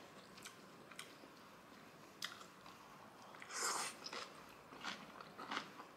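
Someone bites into and chews a huge bite of very spicy kimchi up close. Wet crunches and squishy chewing repeat irregularly, quiet and alone, with a louder crisp crunch midway.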